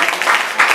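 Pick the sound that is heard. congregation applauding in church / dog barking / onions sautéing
congregation applauding in church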